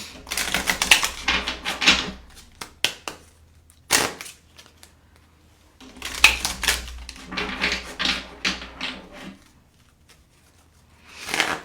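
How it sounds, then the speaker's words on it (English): Tarot cards are shuffled loudly in sharp, rapid clattering bursts close by, several riffling flurries separated by quiet gaps, with no talk. "Ooh, these cards are loud, y'all."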